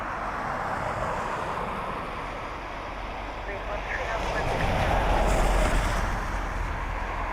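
Gusty wind at Dublin Airport, a loud broadband roar and buffeting against the microphone that builds toward the end, with no clear speech.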